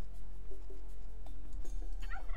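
Turkeys gobble in the Age of Empires 2 strategy game, a few short warbling calls rising over a steady game backdrop, with a busier burst of sound near the end.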